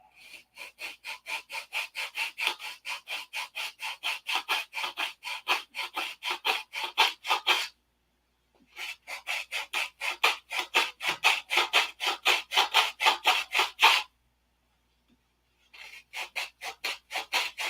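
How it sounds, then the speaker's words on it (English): Sanding the wing of a 1/2A Cobra model airplane flat, a rhythmic back-and-forth rasping in fast, even strokes, close and loud, broken by two short pauses. "You need this to be sanded flat, because this is where the two halves glue together."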